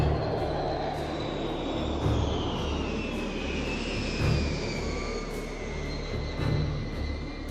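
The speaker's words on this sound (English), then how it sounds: "Those are the type of airplanes that we're flying today." Military airplanes fly overhead at an air show, heard as a loud sustained engine roar with a slowly falling whine as they pass, over a busy outdoor crowd murmur.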